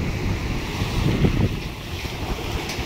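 Ocean waves wash against a small boat at night, giving a continuous rumbling surge with wind buffeting the microphone, all fairly loud and with no voices.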